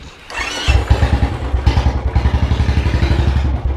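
A Royal Enfield Bullet motorcycle engine, started using a safety pin, cranks and catches, then settles into a loud, close, steady thumping single-cylinder idle with rapid, even pulses.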